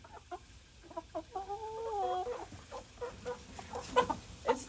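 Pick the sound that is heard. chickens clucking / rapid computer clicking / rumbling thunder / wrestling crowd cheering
chickens clucking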